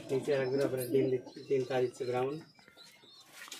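Mukki pigeons cooing at close range, a series of deep throaty rolling coos in short bursts, followed by quieter rustling.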